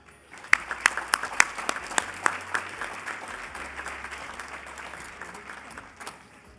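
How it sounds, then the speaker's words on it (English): Audience applause at a spring awards ceremony, opening with several loud, sharp nearby claps over a steady wash of many hands clapping, the crowd applause holding and gradually easing through the whole stretch. "You guys have been clapping after each one."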